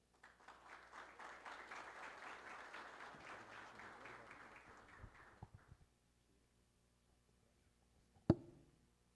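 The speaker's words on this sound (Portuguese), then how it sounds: "Eu quero uma salva de palmas ao Eugênio Maia Neto e convidá-lo ao palco" An audience at a Dataprom symposium applauds as a speaker is invited to the stage. The clapping is steady for about five seconds, then fades to silence, followed by one sharp knock.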